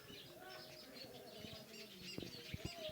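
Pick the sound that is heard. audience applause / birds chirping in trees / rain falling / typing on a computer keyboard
birds chirping in trees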